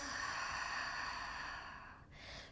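Steady breathing in and out during a lower-body Pilates exercise, a long continuous airy exhale that fades, followed by a short fresh intake of breath, close and alone with no talk.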